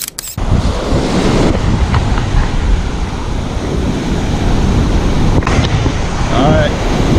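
Ocean surf rolls onto the beach at Seaside, Florida, a loud continuous wash of breaking waves mixed with heavy wind buffeting the microphone, with faint voices in the background.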